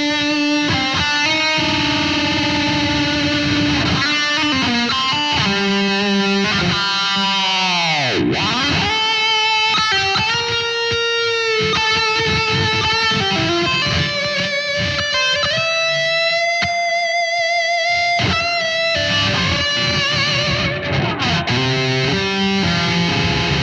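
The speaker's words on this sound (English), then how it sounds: "If I do the upper register, it sounds something like this." Heavily distorted Ibanez Xiphos Iron Label XPIR20E electric guitar playing high, sustained upper-register notes with bends and squealing harmonics, loud and continuous with no voices.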